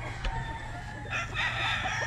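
A gamefowl rooster at a farm crows with one short call and then a longer crow, fairly near and clear over a low background hum, with no talk.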